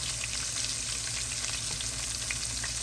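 Buttermilk buffalo pork chops fry in a pan over low heat, giving a steady, dense sizzle and crackle with no pauses throughout.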